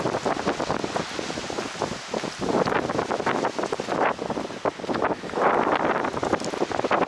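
Strong, cold coastal wind on Belle-Île blowing hard and steadily, gusting and buffeting the microphone, with a roaring, rushing quality and no talk.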